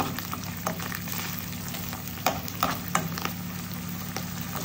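Garlic sizzles and crackles steadily in a hot pan during home lunch cooking, a continuous close frying hiss with a few sharper pops and stirring clicks, no voices.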